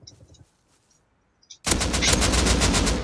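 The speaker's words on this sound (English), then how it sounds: "Yeah, I shot him." Gunfire in the survival game Rust: after a few faint clicks and near silence, a loud sustained automatic burst of rapid shots erupts close up and continues to the end.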